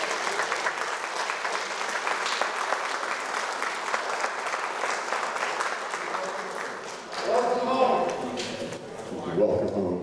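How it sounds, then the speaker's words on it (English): A crowd at a National Vietnam Veterans Day ceremony gives a round of applause for Vietnam veterans, a steady wash of many hands that thins out near the end as a voice begins speaking over it. "could we give them all a round of applause"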